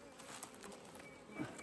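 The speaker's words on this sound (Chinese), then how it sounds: "这个季节蜜蜂比较凶啊" Bees buzz around the entrance of a hive in a mountain cave, a steady insect drone with faint patter close by and no voices.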